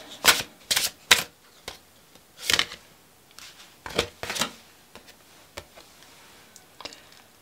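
Tarot cards shuffled by hand, a series of crisp riffling and tapping bursts, close and fairly quiet, arriving in an irregular rhythm with short gaps between them.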